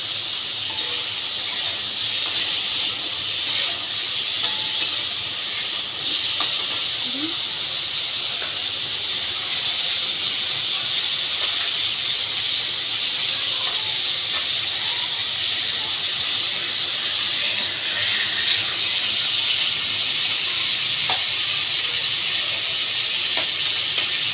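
Food fries with turmeric in a pan, a steady loud sizzling hiss that holds throughout, close up, without pauses.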